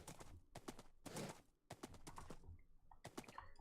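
A Minecraft horse clip-clops along in quick irregular hoof clicks, faint and sharp, with brief gaps between bursts.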